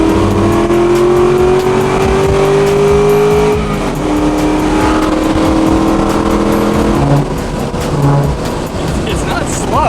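A stripped-down track car with no door panels revs its engine loudly and close by, the pitch climbing and dropping through strong rising harmonics, with brief tire squeal and people talking over the raw mechanical noise.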